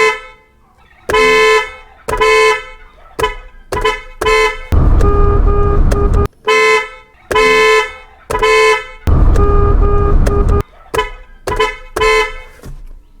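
A newly installed car horn gets tested outdoors at dusk in a series of loud, close blasts, some short toots and some long sustained honks, separated by brief pauses, with no talking.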